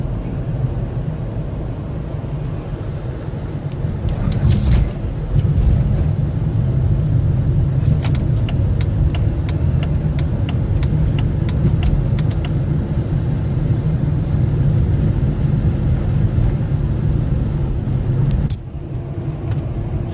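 A fully warmed-up Chrysler Hemi engine idles with a steady, close, loud rumble that continues throughout, with a few faint clicks and taps over it and a brief dip near the end.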